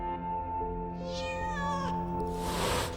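A cat meows in the horror video game STAY, a drawn-out, wavering meow rising and falling over a steady low game hum, followed by a brief harsh burst near the end.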